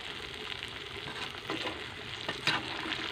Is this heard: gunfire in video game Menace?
no